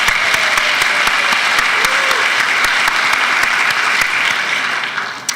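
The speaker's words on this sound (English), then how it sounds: "Give yourselves a round of applause." Audience clapping at a graduation recognition celebration, dense sustained applause from a large crowd that holds steady and begins to taper at the end.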